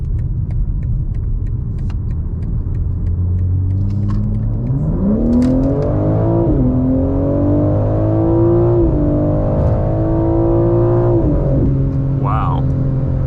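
2024 BMW M4 Competition xDrive engine revving up hard in sport mode onto a freeway, a low rumble rising steeply in pitch, holding high through a long pull, then shifting down briefly near the end.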